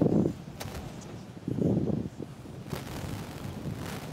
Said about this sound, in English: Man, it's getting windy, too.